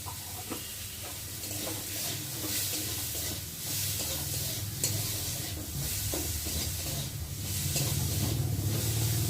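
Chutney sautéing in a pan, giving a steady hissing sizzle with repeated soft scraping stir strokes throughout, moderately close and without speech.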